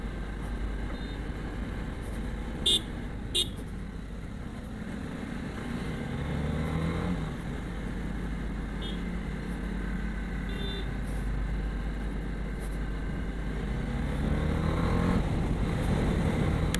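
Dense Mumbai road traffic heard from a vehicle on a morning commute, a continuous low engine rumble of cars, motorcycles and trucks with passing revs and a couple of brief horn toots.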